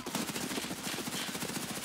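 Rapid automatic gunfire in Escape from Tarkov, a steady fast rattle of shots running without a break for the whole short burst, fairly close and loud.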